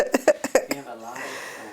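Several sharp coughs in quick succession from a woman at close range, followed by a brief softer breathy sound.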